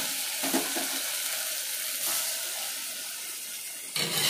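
Ginger-garlic paste sizzles and fries in a hot pan for an eggplant and tamarind-leaf curry, a steady close crackle with a few stirring scrapes and no talking.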